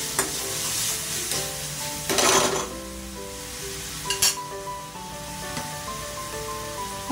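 Tomato-onion gravy base with paste for mutton keema stirred in a pan, a continuous sizzle with scraping strokes and occasional metallic clinks of the spoon, close and fairly loud.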